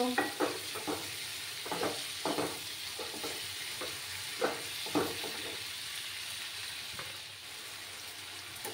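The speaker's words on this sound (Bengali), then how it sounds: "ভালো করে আমি কষিয়ে নিচ্ছি" Mutton masala sautés in a pan, a constant soft sizzle broken by repeated scraping strokes of stirring, clustered in the first five seconds before easing into plain frying.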